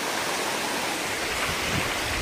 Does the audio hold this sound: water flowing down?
yes